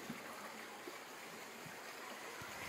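Strong water stream rushing steadily at a fishing spot beside a field, a continuous close broadband flow with no voices.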